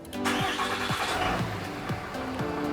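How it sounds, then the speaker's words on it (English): A 2006-2007 RAM 3500 diesel cranks and fires up, the rhythmic starter churning repeatedly before the engine catches and settles into a steady close idle, with nobody talking. "This vehicle is a diesel, so it's going to do the wait to start before it cranks the vehicle."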